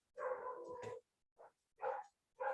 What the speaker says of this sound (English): There go the dogs going crazy again.